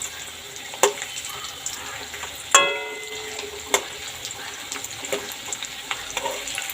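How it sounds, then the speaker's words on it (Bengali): Papaya pieces frying in a pan on low gas for a papaya and paneer curry, a soft continuous sizzle broken by a few sharp clacks of a utensil against the pan, close by. "এইভাবে লাল লাল করে ভেজে নিতে হবে"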